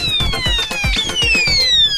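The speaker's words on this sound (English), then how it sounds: "The acoustic siren has three states. In these three states can oscillate three types of frequency, and it generates three types of sound effects what we can hear." A solar-powered RC toy truck's electronic acoustic siren sounds loud and close, a steady electronic tone gliding downward and repeating, over a fast rhythmic clicking pulse.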